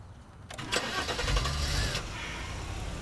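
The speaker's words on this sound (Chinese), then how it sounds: "对，打火" A car engine is started with the ignition: a short starter crank, then the engine catches and settles into a low idle, moderately loud from inside the car.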